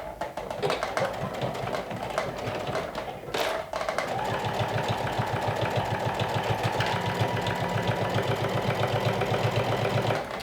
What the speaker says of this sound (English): So let's stitch this down through all 4 layers.